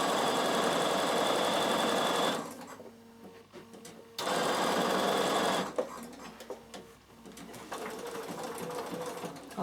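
A Bernina sewing machine runs loud and close as it stitches the lining of a fabric box, humming steadily, stopping briefly, then stitching again in bursts with short pauses between runs.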